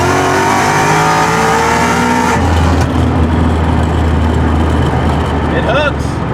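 A Ford Mustang on oversized tires launches hard, its engine roaring loud and close, then dropping pitch as the gear changes partway through and pulling again with road and tire rumble, while a voice speaks over it.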